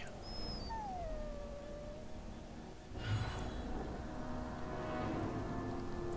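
A dog in Dragon Age: Witch Hunt gives a long, drawn-out howl that slides downward in pitch. It is fairly faint against a steady background wash of game ambience, with no talk.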